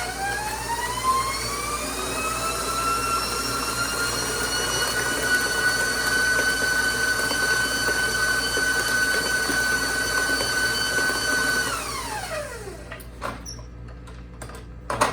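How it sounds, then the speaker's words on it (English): An electric mixer beats vanilla cupcake batter at medium speed, humming as a steady high whine for about twelve seconds. It then winds down and stops, leaving a few light knocks. "now I'm going to mix it for about a minute on medium speed"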